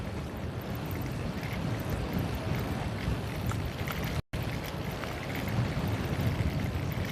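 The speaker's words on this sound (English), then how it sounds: "There's a nice headwind." A steady headwind buffets the microphone while walking outdoors near a municipal airport, a loud continuous rushing roar broken by one brief dropout, with no voices.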